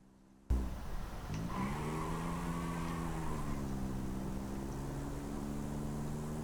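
A vintage Bentley engine straining as the car climbs a hill, a steady droning hum that rises slightly in pitch while labouring, close and continuous with no voices.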